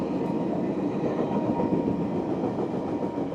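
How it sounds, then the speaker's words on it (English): A West Coast Express passenger train passes close by, its steady rumble and rhythmic clickety-clack of wheels on rails continuing loud and unbroken throughout. "Oh, trains coming across, the West Coast Express."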